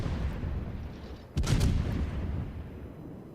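A single heavy boom from naval guns in World of Warships, fired by the French cruiser Henri IV, bursts out of a low steady rumble and trails off into a fading roar.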